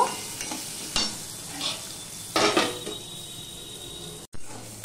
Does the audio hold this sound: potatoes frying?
yes